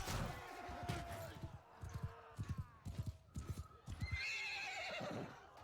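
A horse whinnies loudly in the medieval combat game Bannerlord, followed by a series of heavy hoof thuds and clattering impacts, then another drawn-out neigh near the end.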